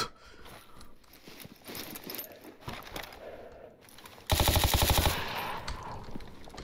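Rapid automatic gunfire from a weapon in a video game, a short loud burst near the end after quieter clattering game sounds.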